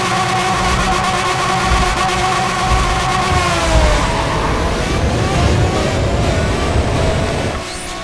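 A racing car engine in Need for Speed World, an Aston Martin Racing DBR9 or Nissan Skyline R34, drones loud and steady with a rising tone through the whole stretch, easing off slightly at the end.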